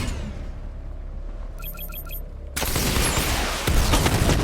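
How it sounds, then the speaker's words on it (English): Batman: Arkham Knight's Batmobile unleashes a missile barrage, a few bright electronic targeting beeps followed by a sudden dense roar of rapid launches and explosions with heavy rumble. "Charge up missile barrage to level 2 and destroy 4 active targets to complete diagnostic test."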